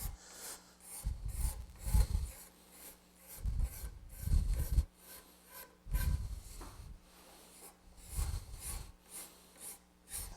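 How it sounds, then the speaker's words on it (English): A card scraper rasps across an end grain wooden cutting board in repeated strokes, about five rough scraping passes with short pauses between them, close and fairly quiet with no talking. "little card scrape."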